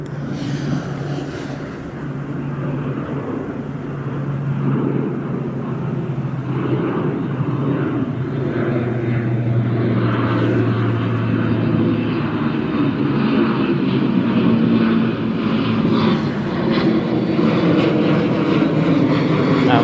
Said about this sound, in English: This is the Swift Air going to Jersey. It's an ATR 72.